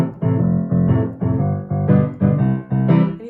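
Piano plays a duet with both parts together: a bouncy, repeating bass pattern under a melody, in short, evenly paced phrases, close and fairly loud, with no talking.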